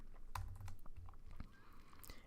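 A few keystrokes on a computer keyboard, close and quiet, with separate soft clicks and a firmer tap near the end.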